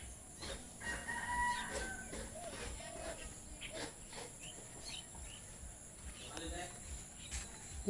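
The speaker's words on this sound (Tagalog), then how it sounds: "Daming manok." Many chickens in a rural Bicol yard, with roosters crowing at a moderate distance and hens clucking intermittently, under quiet talk and a steady high insect drone.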